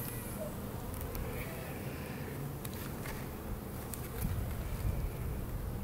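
Honey bees buzzing around an open hive during a spring beehive inspection, forming a faint, constant hum close by with a few soft knocks from handling the frames.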